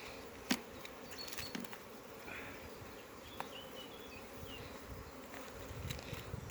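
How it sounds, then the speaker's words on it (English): Honey bees buzzing close by during an early summer hive inspection, a steady hum with individual bees droning past, plus a few faint knocks and clicks from handling the hive. "These are obviously very propolisy bees."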